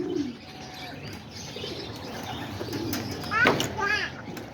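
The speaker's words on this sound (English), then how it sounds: "The pigeons are still out there flying around." Homing and roller pigeons coo and flutter outdoors, soft low cooing and scattered chirps with a louder burst of calls near the end, over quiet ambient background.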